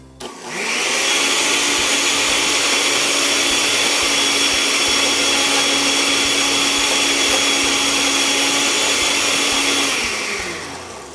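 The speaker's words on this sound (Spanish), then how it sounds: "Y lo que sigue es licuar hasta obtener una crema." A blender purees mango with cream cheese for a mango dessert cream, giving a loud, steady whirring roar that runs unbroken for about ten seconds before winding down, with no talking.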